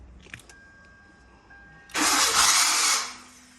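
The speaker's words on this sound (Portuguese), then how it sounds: "Rodou o arranque." Car starter motor cranking the engine on a start-stop system with a long-crank fault, a faint click and brief whir before a loud, steady cranking burst that cuts off after about a second.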